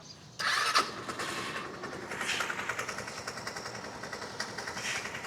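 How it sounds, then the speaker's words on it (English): A motorcycle fitted with a cheap replacement carburetor starts up with a sudden loud catch, then settles into a steady, slightly uneven idle with rhythmic engine pulses, heard close and alone. "Turn the bike on."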